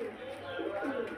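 Pigeons coo softly beneath steady background noise at a pigeon stand, with low, wavering calls running through the short stretch.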